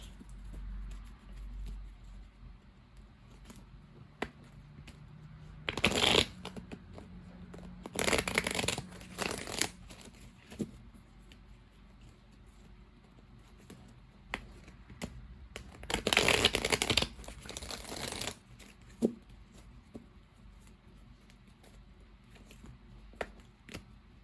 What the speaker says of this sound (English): Let me get these shuffled up really good.